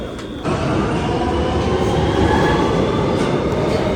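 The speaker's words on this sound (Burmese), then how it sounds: "မြေအောက်ရထားကျွန်တော်တို့စီးခဲ့ပါတယ်" A New York City subway train in motion, a loud continuous rumble and rattle of wheels on track that swells after a brief quieter start and runs steadily to the end.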